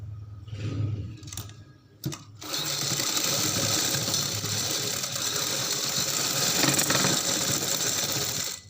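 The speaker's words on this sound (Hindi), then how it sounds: "अब अगला स्टेप जो है वो हमने जो लैस का ये वाला किनारा है उसके ऊपर एक स्टिचिंग करनी है" A sewing machine stitches along the lace edge of a sleeve, starting with a short burst, pausing briefly, then running in a steady, close, continuous whir with a rapid mechanical rhythm and no talk.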